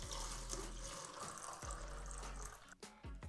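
Water pours out of a resin mold being tilted for a DIY coffee table build, a continuous close splashing and gushing rush with a steady low hum beneath, faltering briefly near the end.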